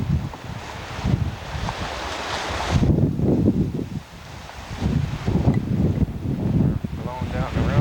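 Wind gusts roar over rolling surf at a beach access path near sunset, with heavy low buffeting through much of the scene and a voice talking over it.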